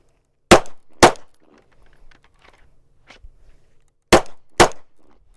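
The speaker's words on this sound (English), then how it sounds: "We're going to draw our weapon, we're going to pull, we're going to shoot, and then come over and shoot." Handgun shots fired on an outdoor shooting range during defensive draw-and-fire drills: two pairs of loud, sharp reports, each pair spaced about half a second apart, with quieter shuffling and faint handling noise between them.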